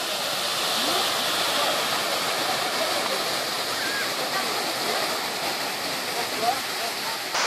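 Waterfall at the Park of Three Lakes (Gan HaShlosha, Sakhne) in Israel, a steady, loud rushing roar of falling water that continues unbroken.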